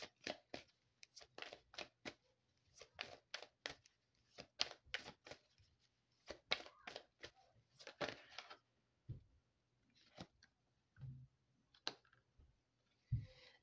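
Sharp riffling bursts of cards being shuffled up close, several quick flurries separated by short pauses, quiet and without voices.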